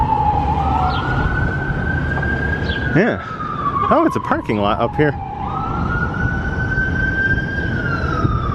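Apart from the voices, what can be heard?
police car siren passing down the street in the distance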